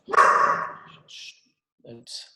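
A pet dog barks indoors, one loud close bark followed by a few shorter, quieter yips and whimpers with gaps between them.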